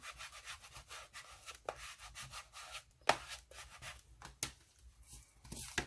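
A spatula smooths filler across a small handmade mini clipboard, giving repeated close scraping and rubbing strokes with a few sharper taps, moderately quiet and with no talking.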